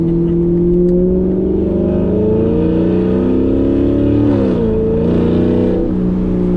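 A C7 Corvette Grand Sport engine pulls hard from inside the car on a night drive, its loud droning note rising in pitch through the revs, dipping briefly at a shift, then climbing again, with no talking.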